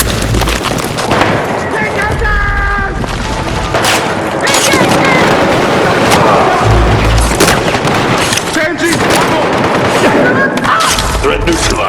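Video-game combat from a military shooter such as Call of Duty, Ghost Recon or Battlefield 6, with loud sustained gunfire and deep booms blending into a constant battle din while voices talk over it.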